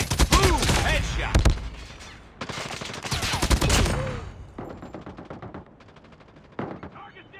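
Bursts of rapid automatic gunfire in Call of Duty Mobile crack close and loud in several volleys, with sharp single shots between them and game voice callouts mixed in.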